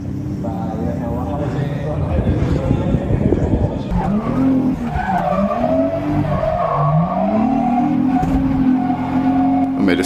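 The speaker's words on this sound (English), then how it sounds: "I ended up hitting the tyre wall pretty badly" A drift car running with reduced engine power skids at a drift competition, its tyres squealing loudly and continuously over engine noise throughout the clip.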